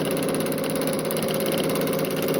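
A sewing machine runs steadily while meander-quilting a baby quilt, a continuous even mechanical hum with no breaks, close and alone throughout.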